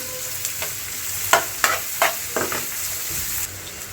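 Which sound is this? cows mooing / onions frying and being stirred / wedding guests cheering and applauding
onions frying and being stirred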